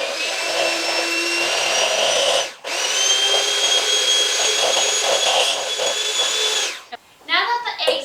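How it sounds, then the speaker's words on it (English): A handheld electric mixer whirs steadily while beating eggs for a dark chocolate cherry cake batter, a continuous high motor drone that dips briefly in the middle and cuts off near the end, followed by brief talking. "we're going to use our hand mixer, and this is just so we can beat the eggs"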